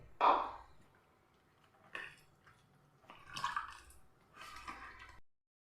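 Water is poured into rice flour batter for appam in four short, splashy bursts spaced about a second apart, close and fairly quiet, with silence between them.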